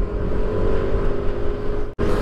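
A Yamaha NMAX scooter engine, standard non-smart-key version, runs hard and steady close by with a broad, continuous roar, briefly cutting out near the end before resuming.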